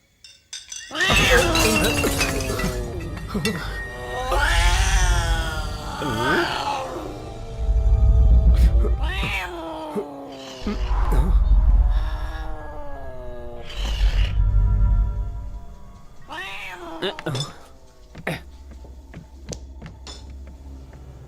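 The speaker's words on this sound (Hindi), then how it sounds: "वो मुझे कोई आम बिल्ली नहीं लग रही थी" A cat meows and caterwauls in a dubbed Home Alone scene, a series of loud drawn-out yowls and wails rising and falling in pitch, separated by short pauses, with sharp clinks between.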